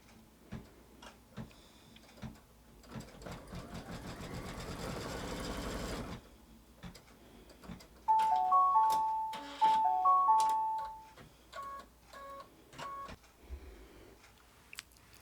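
An in-the-hoop embroidery sewing machine stitches fabric in the hoop with rapid mechanical clatter, first a sustained whirring run, then a pause, then bursts of stitching with tonal beeps and clicks as it moves.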